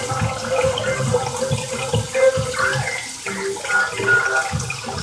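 Tap water runs steadily into a sink while whiting fish is cleaned, a continuous splashing flow with occasional shifts as hands and fish move through the stream.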